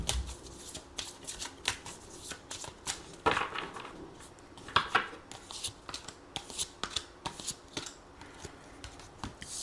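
Tarot cards being shuffled by hand, a dense run of soft riffling and flicking bursts with brief pauses, close and fairly quiet, without speech.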